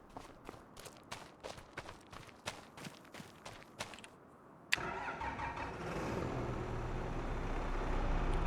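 A tractor in Farming Simulator 25 starts after a run of rhythmic footsteps, then its engine settles into a steady idle that grows gradually louder, close and without talk.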